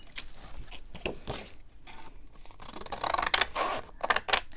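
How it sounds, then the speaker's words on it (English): Large scissors snip through paper in a series of close, crisp cuts and rustles, fairly quiet and uneven in rhythm, with no voices. "let me use my big scissors for that"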